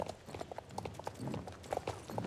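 Horse hooves clip-clop in a steady riding rhythm in the Soul Rider horse-riding video game, moderately loud and close with no voices over them.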